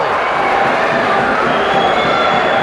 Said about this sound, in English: Their crowd is going crazy.